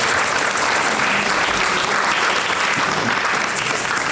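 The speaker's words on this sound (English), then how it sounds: "make sure we give the pastor of this church another round of applause for opening up the house for us here." Applause from a church audience at a birthday fundraiser event, loud continuous clapping that stays dense and even throughout with no talk over it.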